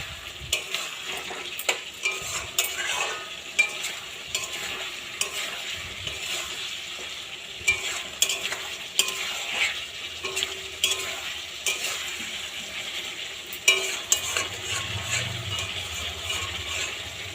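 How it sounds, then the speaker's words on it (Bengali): Meat and potatoes sautéed in a pan, repeated scraping and clattering stirring strokes over a low frying sizzle, close and fairly loud, with irregular knocks of the spatula against the pan; no voices. "তো বন্ধুরা দেখো, আমার মাংসটা কষানো হচ্ছে।"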